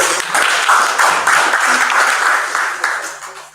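Audience at a virtual unveiling function bursts into applause, a dense burst of many hands clapping at once that is loud and close, then tapers off slightly toward the end.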